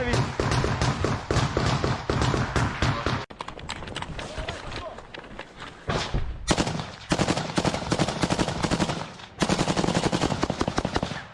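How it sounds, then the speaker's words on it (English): Sustained bursts of automatic gunfire in combat footage from the war in Ukraine, long rapid strings of loud shots broken by short pauses, with voices shouting in the background. "There's something about firing a gun in auto that is just so neat."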